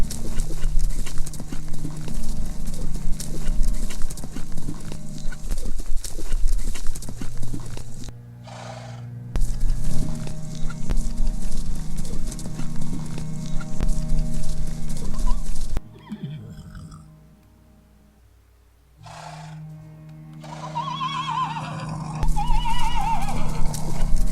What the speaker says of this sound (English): a basic horse riding system,